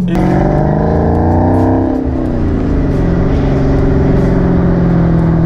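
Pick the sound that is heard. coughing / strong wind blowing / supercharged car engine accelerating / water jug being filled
supercharged car engine accelerating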